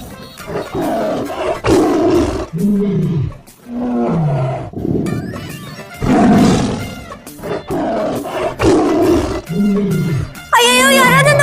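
A tiger roars again and again, loud and close, in deep growling bursts with short pauses between them and no talking.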